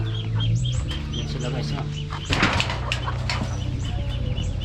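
Decal white chickens in a pen cluck and chirp close by, with a brief flurry of flapping wings, while someone speaks over them.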